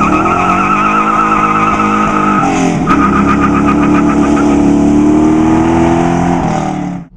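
A 1968 Ford Mustang Fastback roars through a sustained burnout, its loud engine holding a steady high rev with tire squeal layered on top before everything cuts off abruptly at the end.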